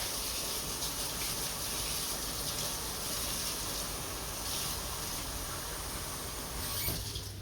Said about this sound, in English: We're going to add a whole can of water.